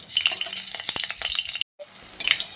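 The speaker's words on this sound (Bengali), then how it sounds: "ফোড়নটাকে ভালো করে একটু ভেজে নিতে হবে" A Bengali phoron of whole spices fries in hot oil with a loud, close, steady sizzle and some stirring, cut by a brief silent break before the hiss returns.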